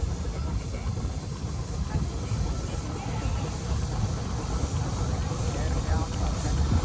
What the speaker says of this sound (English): Coming past the entrance gate now, we've got a Burrell traction engine